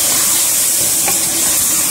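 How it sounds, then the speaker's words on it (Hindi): Chili paste, dried plums and spices frying for mutton biryani give a loud, steady, close hiss with no pauses over a brief stretch. "इसको अच्छी तरह आपने आप भूनना है"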